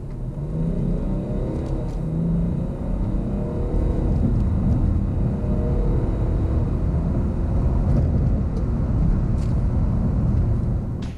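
A 2018 BMW X6 30d with its inline-six diesel accelerating hard from 30 to 70, heard from inside the cabin as a deep, steady rising engine drone and road rumble lasting about eleven seconds, without talk.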